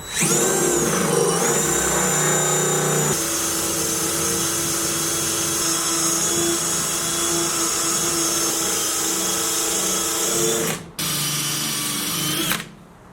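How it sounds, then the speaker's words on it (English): A 3M adhesive remover wheel spins on a power tool, stripping wrap adhesive from a Silverado with a steady, loud high-pitched whine that runs continuously and briefly cuts out twice near the end. "it's an adhesive remover wheel by 3M"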